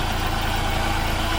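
A sawmill engine idles as it warms up, a steady close rumble with an even low pulsing beat that keeps going throughout, with no voices.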